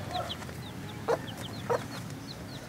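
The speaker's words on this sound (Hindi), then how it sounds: "ये जो वाइट मुर्गा आपने देखा अभी थोड़ी देर पहले, ये उसके बच्चे हैं" Young chickens, the offspring of a white rooster, cluck and peep inside a bird shop in Lahore. High, short chirps repeat through the stretch, with a few louder clucks standing out against a low background hum.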